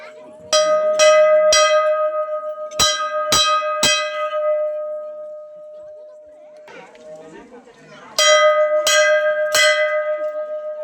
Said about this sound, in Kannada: ಗಂಟೆ ಬರ್ಸಿ ಗಂಟೆ ಬರ್ಸಿ